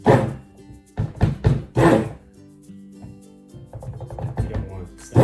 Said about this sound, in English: Now you're gonna see me beating the blender on the bottom.